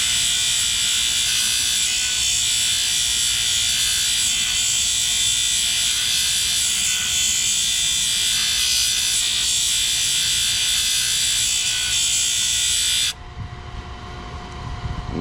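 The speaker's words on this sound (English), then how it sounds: "what I want to do is just basically grind it till it's almost to the black line all the way around" A rock grinder works a piece of rose quartz in a steady, loud continuous whine with harsh grinding texture for about thirteen seconds, then cuts off abruptly, leaving a quieter low hum.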